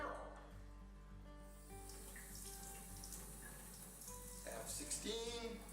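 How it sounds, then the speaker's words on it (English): A thin stream of water runs steadily from a tap valve, a continuous close hiss with a faint voice murmuring in the background. "a small stream of water that's coming out of that valve"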